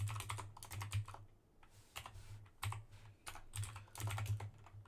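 Rapid keystrokes on a computer keyboard while a window manager is recompiled, clicking in uneven bursts with short pauses between them, fairly close and with no talking.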